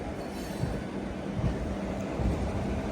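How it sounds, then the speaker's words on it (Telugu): Train with its locomotive at a station on the Chengalpattu–Kacheguda route, a steady low rumble of rolling railcars with faint wheel squeal, heard from a moderate distance without talk. "ఇప్పుడు చెంగల్బట్టు నుంచి కాచిగూడ అయితే వెళ్తుంది ఆ ట్రైన్."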